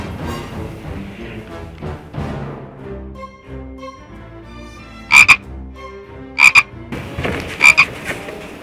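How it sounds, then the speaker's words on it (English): Frogs croak in a musical piece about croakers and peepers singing together, three loud, bright croaking bursts standing out near the end over a steady bed of instruments. "and happy frogs sing together in the box"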